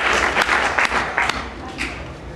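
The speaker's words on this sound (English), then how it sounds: "give yourselves a round of applause, ladies" Audience applause at a talk, a steady wash of clapping throughout with a few sharper individual claps standing out, moderately loud and filling the room.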